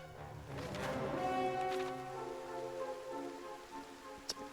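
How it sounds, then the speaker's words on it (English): Rain falls in the Dragon Quest III HD-2D Remake video game, a steady soft patter beneath tonal game music, with one sharp tick near the end. "Even in the world map, you can see it's always raining here."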